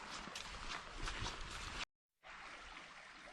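A creek at Bernheim Forest flowing over rocks, a close, steady rushing trickle filling the scene, cut by a brief silent gap before resuming just as evenly.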